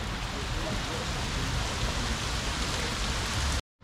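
Steady, dense rain falls outdoors at a fishing spot, a constant even hiss filling the whole scene before it cuts off abruptly near the end.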